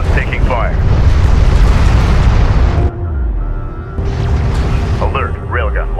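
Enemy airstrike explosions in the Homeworld: Deserts of Kharak strategy game roll out as loud, continuous booming rumble, with a brief lull near the three-second mark before more blasts; a radio voice chirps over the din.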